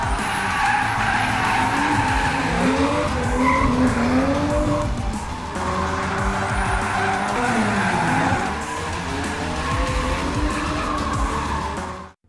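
An old Proton Neo race car revs hard while drifting, tires squealing in long loud wavering sweeps over a continuous engine roar, close up and sustained before cutting off abruptly.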